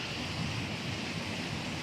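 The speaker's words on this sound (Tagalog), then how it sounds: "Lalakas ng alon, no?" Strong ocean waves churned up by typhoon Uwan, a steady loud roar of surf with wind noise buffeting the microphone, continuous and close throughout.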